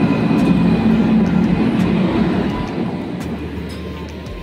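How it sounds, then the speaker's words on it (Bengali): A passenger train rolls into a station on the Baharampur to Tinpahar route in Jharkhand, a steady loud rumble of wheels and engine that slowly fades over a few seconds, with no talking. "ট্রেন ঢুকছে।"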